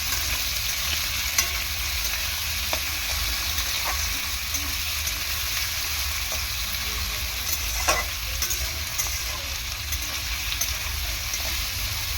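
Potatoes frying in oil in a pan hiss with a steady, loud sizzle, broken by occasional scraping stirs and clinks, with no talking.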